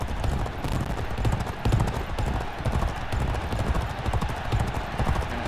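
Hooves pound in a rapid galloping rhythm during a horse race in the video game G1 Jockey 4, a continuous clip-clop drumming at close range with someone talking over it.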